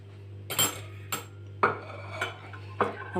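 Ground sesame and cacao mixture being stirred in a bowl, with several distinct clinks and scrapes of a utensil against the bowl spaced unevenly over a few seconds, no voices.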